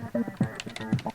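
Rhythmic typing on a laptop keyboard: a quick run of close clicks and taps over a soft, steady tonal background.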